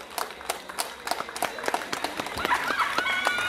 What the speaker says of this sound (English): A round of applause for the political leader